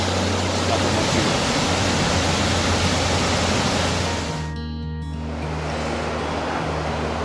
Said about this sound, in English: This Foster Falls we're looking at now is actually a dry waterfall a couple of months ago.